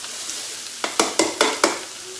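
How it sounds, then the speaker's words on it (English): Onions frying in a pan as it is shaken, a soft sizzle with four sharp rattling stirs in quick succession. "just want to start to get some caramelisation on them onions"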